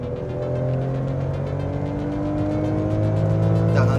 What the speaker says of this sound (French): On entend bien le moteur qui chante quand même.